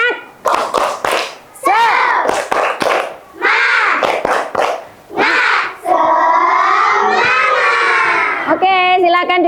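A classroom of schoolchildren loudly chants the rhythmic 'tepuk semangat' routine together, shouting in unison between bursts of sharp group clapping, ending in a sustained drawn-out cry, all close and energetic.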